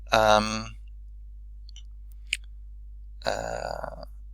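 A single sharp computer mouse click lands alone in a pause, with a person talking just before and after it.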